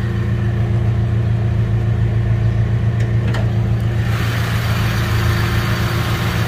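A Mitsubishi Lancer GLXi 1.6 (2000) engine idles smoothly and steadily with a low hum, close by, with a couple of faint clicks partway through.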